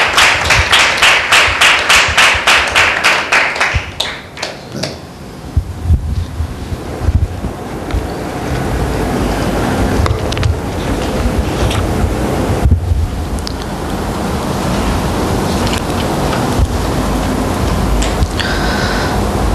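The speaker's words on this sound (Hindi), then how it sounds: "एक जोरदार ताली देंगे परमेश्वर के नाम की महिमा के लिए" A church congregation claps in loud, fast, rhythmic unison at first, then the sound breaks into a dense, distorted roar of scattered applause that fills the hall and slowly thins out.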